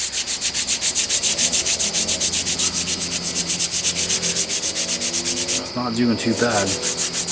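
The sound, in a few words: scrubbing rust off an old hatchet head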